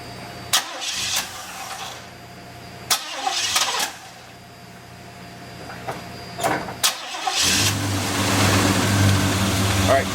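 A car engine is cranked several times in short, loud bursts with pauses between them, then catches and settles into a steady close idle; the car's fluid leak is being checked.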